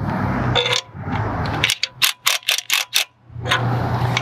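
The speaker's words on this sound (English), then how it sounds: "we're going to do that today with the impact wrench" Impact wrench tightening a SawHaul mount on a John Deere tractor, several short loud bursts in quick succession over steady outdoor background noise.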